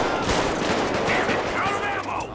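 Gunfire in GTA 5 rattles out in a dense, continuous barrage that stays loud and mushy throughout, shots blurring together over a constant roar of background noise.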